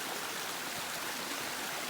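A waterfall on an outdoor walk pours in a constant broadband rush, loud and close, with no pauses or voices.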